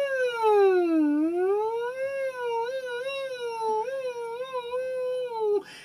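A human voice imitates a siren on a hummed NG sound, a single sustained tone sweeping down, then up and wavering in slow glides for several seconds, clear and close, ending abruptly.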